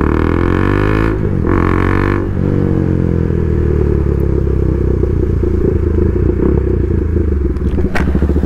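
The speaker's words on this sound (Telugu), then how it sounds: "సో మళ్ళీ నేను ఇంకొకసారి డ్యూక్ లాంచ్ చేస్తా, ఆయన జీటీ లాంచ్ చేయమంట" Tuned KTM Duke 390 and Royal Enfield GT 650 motorcycles launch in a drag race, engines roaring loud and close with a steady high-revving drone, rising pitch and brief gear-change dips.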